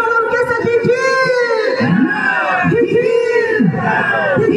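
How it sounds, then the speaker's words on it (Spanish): A large crowd at an orchestra's anniversary concert cheers, whoops and yells continuously, with loud chanting voices layered over the noise. "¿Y dónde está la gran hinchada de la gran orquesta?"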